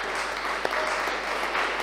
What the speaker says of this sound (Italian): Chiedo per lei un applauso